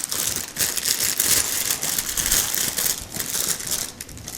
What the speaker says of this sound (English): drop the box down and open this out of the plastic wrap